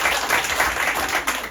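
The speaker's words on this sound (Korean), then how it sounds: "박수 치려면 확실하게 쳐주세요." Dense applause from a crowd, steady and sustained throughout the short moment, with no voices over it.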